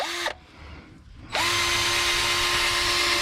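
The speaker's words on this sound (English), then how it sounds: "Now, you can use a wire brush, but why would you? Unless you don't have a drill." Power drill fitted with a wire brush, scrubbing rust off turbocharger parts on a 2007 Freightliner Columbia truck: a loud whine, a brief pause as it winds down, then a steady high-pitched run, close up and alone.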